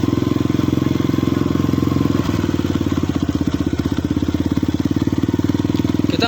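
A Yamaha Vixion supermoto's engine chugs loudly at close range with a rapid, pulsing beat that quickens slightly as it pulls away in first gear.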